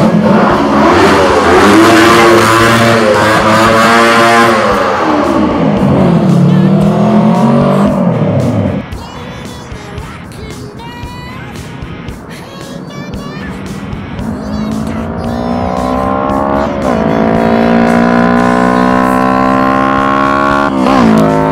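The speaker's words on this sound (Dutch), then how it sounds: "En een megaton demper heb ik erop gezet voor een onwijs mooi en fel geluid." A custom café racer built from a Honda CB125T with a Megaton exhaust muffler revs loudly up and down, its pitch climbing and falling in repeated sweeps, dipping to a rough idle midway before revving hard again.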